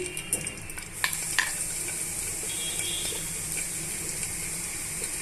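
Chana dal, urad dal and dried red chillies sizzle steadily in hot oil, with a few sharp clinks and scrapes of a spoon stirring the pan near the start.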